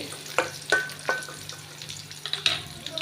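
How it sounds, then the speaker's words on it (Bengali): Onion frying with bay leaf in a pan for iftar dishes, a soft steady sizzle broken by several distinct stirring scrapes and clicks, fairly quiet and close. "তো পেঁয়াজটা আমি একটু ভেজে নিব"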